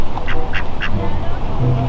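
A duck quacking on the water near a turtle, three loud, close quacks in quick succession followed by lower sounds, with people talking underneath.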